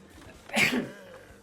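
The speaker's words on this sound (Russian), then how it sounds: "Что-то как-то захотелось резко чихнуть." One sudden sneeze bursts out close to the microphone, short and sharp, from a man playing the mobile game Zooba, with quiet game sounds around it.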